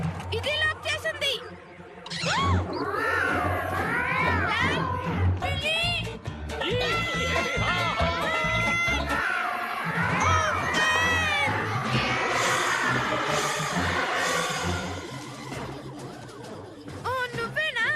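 Several cats meow and caterwaul loudly in a cartoon, voiced by performers over a busy, lively backing of voices and music.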